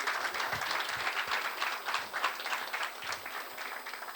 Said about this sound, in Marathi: तुम्ही सर्वांनी स्वतःसाठी टाळ्या वाजवल्या पाहिजेत